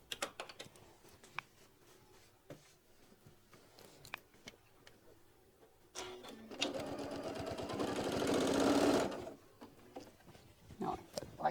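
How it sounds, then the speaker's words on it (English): A sewing machine stitching a quarter-inch seam, a few short quiet bursts and clicks, then a louder steady whirring run of about three seconds before it stops, with occasional handling noises. "now we're going to do 1/4 of an inch regular stitching"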